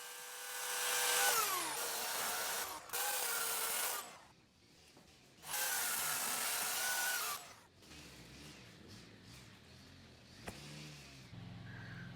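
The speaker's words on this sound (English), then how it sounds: "taking the corners off with a chainsaw" A chainsaw roars through a wooden log in several long bursts, trimming the corners off a bowl blank, its engine pitch dropping under load, with idling and quieter gaps between cuts.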